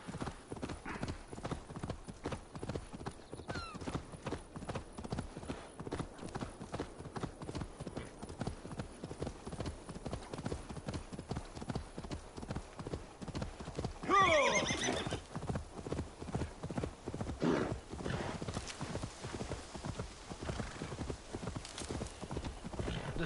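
A galloping horse in Assassin's Creed Valhalla pounds out a fast, steady run of hoofbeats for over twenty seconds, with a clear neigh partway through and ambient game sound underneath.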